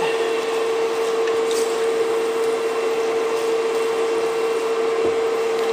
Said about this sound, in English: there's a fan going, that's why it's still making noise